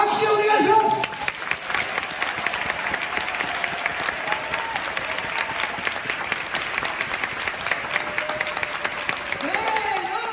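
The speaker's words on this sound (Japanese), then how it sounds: "拍手をお願いします。" A seminar audience at a large Tokyo venue breaks into dense, sustained applause lasting around ten seconds, loud and close, with a voice heard briefly at the start and again near the end.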